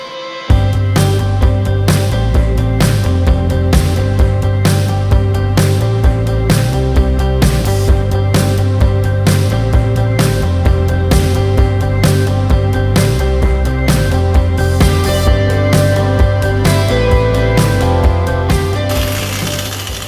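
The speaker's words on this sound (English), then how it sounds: "So let's get on with the grinding and let's then get on with the belt grinder." Belt grinder grinding a bar of explosion Damascus steel, a loud continuous whirring hum with steady grinding noise and repeated scraping contacts running throughout, close and without talk.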